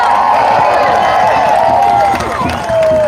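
A large rally crowd roars continuously with cheering, whoops and scattered clapping, a loud dense wall of voices sustained throughout with a shouted voice rising over it near the end.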